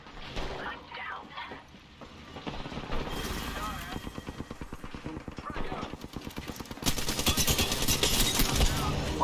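Video game shootout gunfire: rapid bursts of automatic weapon fire rattle continuously, growing louder and denser toward the end, with a voice speaking over the shooting.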